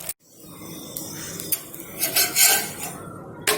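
An oats millet dosa is loosened and flipped on a hot pan, with metal spatula scrapes and clinks in short bursts over a faint background sizzle, close by and without talking.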